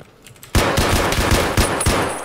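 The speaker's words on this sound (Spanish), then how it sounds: "¿quién está disparando?" A sudden, loud burst of automatic gunfire from Escape from Tarkov opens after a quiet moment, then continues as rapid, rhythmic shots to the end.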